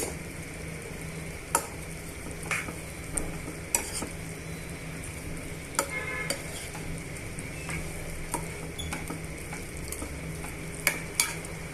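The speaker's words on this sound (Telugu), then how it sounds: "ఇప్పుడు ఇవన్నీ కూడా బాగా మిక్స్ చేసుకుందామండి" Chicken pieces mixed with salt and spices, a long stretch of repeated scraping and clicking stirring strokes over a faint continuous hiss, with no voices.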